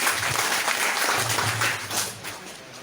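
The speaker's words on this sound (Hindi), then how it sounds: "जबरदस्त ताली हो जाए।" Audience at a solar business webinar event in Balotra clapping together, a dense wash of applause filling the room at steady volume, no voices on top.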